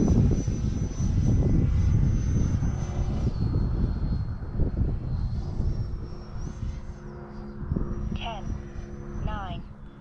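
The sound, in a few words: Freewing JAS-39 Gripen 80mm RC jet flying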